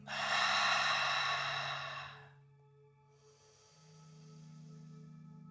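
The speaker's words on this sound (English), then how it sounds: "take a few slightly deeper breaths in and out, inhaling through the nose and exhale through the mouth" A long, deep breath is drawn and released during a slow yin yoga practice before sleep: one loud, full rush of air for about two seconds, then quieter breathing over a soft, steady background tone.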